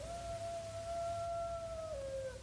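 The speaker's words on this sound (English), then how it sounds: "Did you hear them? The coyotes in the hills?" A single long, steady howl from coyotes in the hills, one sustained tone that holds and then drops slightly at the end, heard alone over a low background hiss.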